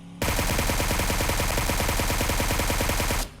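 Suppressed QBZ assault rifle in PUBG Mobile fired in one sustained full-auto burst of about three seconds, a dense rapid stream of muffled shots at steady volume, ending abruptly.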